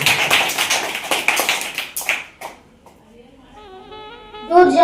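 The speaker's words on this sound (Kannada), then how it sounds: "ಮಕ್ಕಳಿಗೆ ಒಂದು ಜೋರಾದ ಚಪ್ಪಾಳೆ ಬರಬೇಕು." A crowd claps loudly for children at a Kanakadasa Jayanti programme, a dense burst of applause that thins out and fades, followed by a voice starting to sing.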